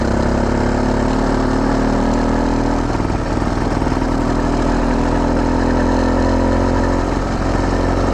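A 110cc motorized bicycle engine chugs steadily at a low idle-like pace, close and loud, its rhythmic putter continuing throughout without any talk.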